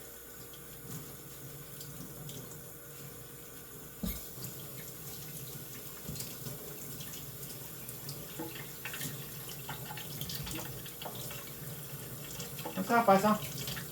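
Running tap water pours into a sink as vegetables, including cilantro, are rinsed underneath, a steady close stream with shifting splashes while a person talks briefly.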